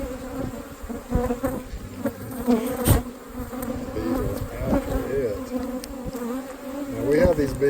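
Many honeybees buzz around a hive box set near blooming cotton, a dense, steady drone close by with individual bees passing in and out.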